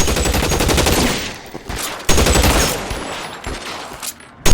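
Sustained automatic gunfire from a shootout in the video game L.A. Noire, loud and close, pouring out in long dense bursts with a brief break partway through and a sharp final blast.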